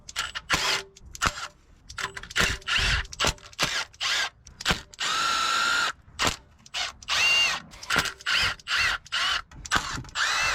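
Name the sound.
power tool removing 10mm bolts on Nissan 350z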